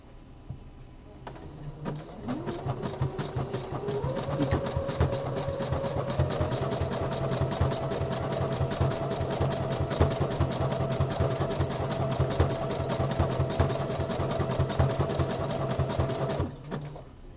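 A home sewing machine stitches a boxer brief body panel with bulky nylon thread, its motor humming steadily and rising in pitch as it speeds up, then running at a constant moderate pace with rapid needle ticks throughout.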